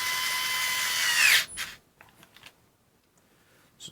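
A HART 4V rechargeable screwdriver runs with a steady high whine for over a second, then cuts out, followed by a few faint handling clicks and near silence.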